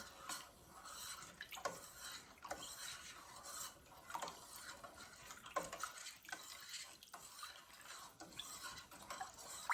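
Teriyaki sauce ingredients being stirred in a pot, a quiet, close run of repeated scraping and clinking strokes of a utensil against the vessel, alone without talk.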